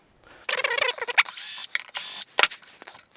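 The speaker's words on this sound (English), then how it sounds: "there's two screws here, which I will take out with a normal screwdriver" Someone works on screws holding the handle of a Fender Frontman 15G guitar combo amp with a screwdriver, giving a quiet series of short clicks and metallic scrapes with brief pauses between them.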